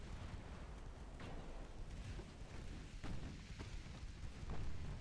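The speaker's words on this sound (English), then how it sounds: "Some of our armored cruisers firing at the CL further out there." Armored cruisers firing their guns in Ultimate Admiral: Dreadnoughts, faint distant booms scattered through a steady low rumble of naval battle, with no talk.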